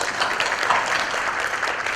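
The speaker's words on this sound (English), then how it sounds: "let's give a round of applause for the speakers" Steady applause from a seated audience at an ASEAN–India dialogue partnership event, dense and continuous for the whole stretch with no breaks, moderately loud and evenly sustained.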